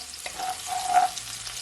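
Shrimp with garlic fry in a pan for spicy Jamaican pepper shrimp, a soft continuous sizzle with a faint tonal hiss, close and without voices.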